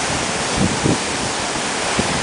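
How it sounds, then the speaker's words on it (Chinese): Sea wind and waves heard from a boat make a loud, steady rushing wash with a couple of soft surges, close and continuous with no voices. "还有听一下海风。"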